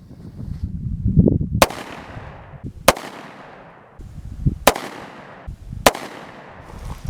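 Four sharp, loud gunshots from a Bearman Derringer 9mm pistol fired outdoors, spaced roughly a second or more apart, each a crisp crack over a low background rumble.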